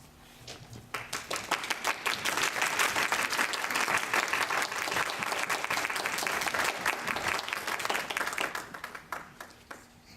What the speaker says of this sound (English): I think you can tell by the applause.